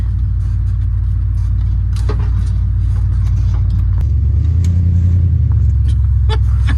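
An Oliver crawler tractor driving through mud, its engine rumbling loud and steady with a low, heavy drone that shifts deeper partway through as the tracks spin.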